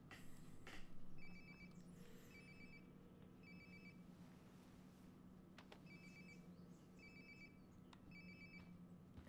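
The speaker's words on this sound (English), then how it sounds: "Sounds like my phone is definitely nearby." A phone rings in Life Is Strange: Before the Storm, a faint electronic ringtone repeating in short trilling bursts over a quiet ambient background, with no one speaking.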